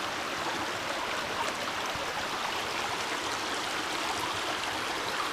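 A river flowing outdoors on a nature walk, giving a steady, broadband rushing wash of water that holds at an even level throughout without voices.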